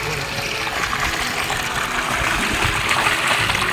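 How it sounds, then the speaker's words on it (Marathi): Cold well water pumped through a pipe gushes out in a steady, loud, close rush in a Konkan garden, with no talk over it. "विहिरीचा पाणी आहे आणि हा पाईपाने इथे पंपाने इथं आणलेलं आहे"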